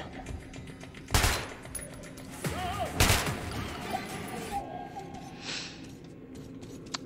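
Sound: gunfire from a powerful gun in video game Metro Last Light

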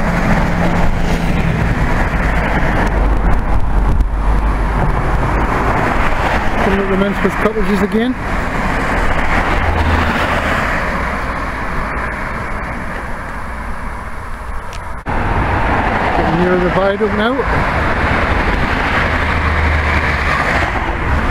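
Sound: road traffic passing on a walk in Chester-le-Street

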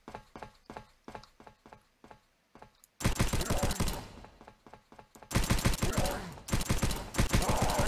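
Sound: gunfire from a weapon in the video game Subterrain

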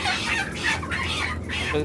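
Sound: broiler chickens clucking in a farm shed

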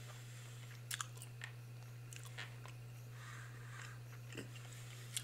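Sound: chewing gum

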